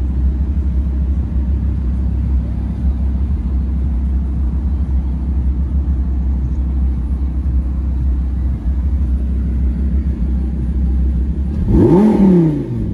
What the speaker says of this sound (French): Et donc cette fameuse sonorité du V10 qui donne un air de famille avec sa cousine